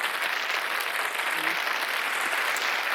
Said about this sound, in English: just a round of applause for all of our wonderful servers and vendors